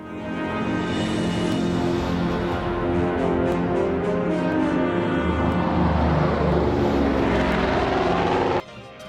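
A de Havilland Caribou propeller transport aircraft flying on a glacier recovery expedition, its steady engine and propeller drone loud and continuous, swelling slightly before cutting off abruptly at the end.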